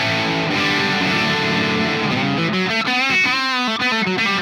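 Electric guitar played through a Laney LOUD 60-watt pedal amp on channel 2 in bright mode, loud and continuous distorted chords giving way to crisp, ringing strummed notes with bright harmonic overtones.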